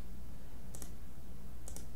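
Two quick computer mouse clicks, about a second apart, while a brush is chosen in Adobe Illustrator, sounding faint and crisp over a low background hum.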